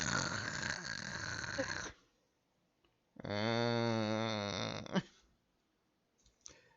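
A person vocally imitates a character snoring, two long rasping snore-like breaths separated by a pause, loud and close, with no other sound around them.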